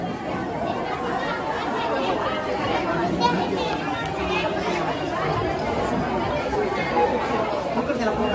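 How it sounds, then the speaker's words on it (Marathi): A large crowd at a festive gathering with a meal being served chatters all around in a dense, steady wash of overlapping voices, with no single voice standing out over the murmur. "तर इथं गर्दीच गर्दी झालेली आहे."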